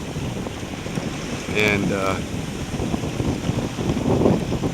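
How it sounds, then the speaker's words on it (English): Steady wind and water noise aboard a sailboat making about 6 knots in 15 to 17 knots of westerly wind on the open Pacific Ocean, with a brief spoken word over the broadband rush. "We're making about 6 knots, sometimes a little more, on about I'd say 15, 17 knots of wind from the west."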